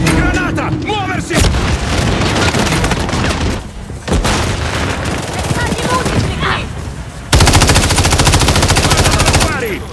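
Dense gunfire from Call of Duty Modern Warfare III on the Rust map, with rapid bursts, booming impacts and a grenade blast, loud and nearly continuous across the whole stretch, with shouted voices mixed in.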